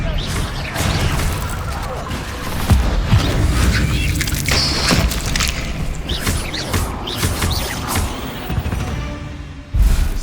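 A spell is cast in the video game Hogwarts Legacy: a booming magical blast bursts out amid dense, continuous combat noise, with sharp impacts scattered through the clip and another strong hit right at the end.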